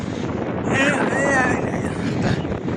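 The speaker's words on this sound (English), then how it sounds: "it's quite windy" Wind buffets the microphone on a flat beach at low tide, a steady loud rushing roar with a faint voice half buried beneath it.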